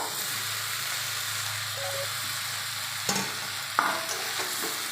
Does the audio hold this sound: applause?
no